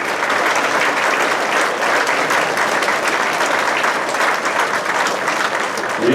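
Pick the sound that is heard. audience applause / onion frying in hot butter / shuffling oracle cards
audience applause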